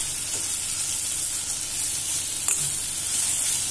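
Capsicum sautés in a hot pan for a paneer capsicum gravy: a loud, continuous frying sizzle with a bright hiss, close up and without talk.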